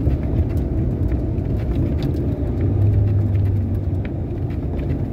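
A 1981 Ford Mustang with a manual transmission driving through a severe winter storm, heard from inside as a steady, loud low road and engine rumble that runs without a break, with no talking.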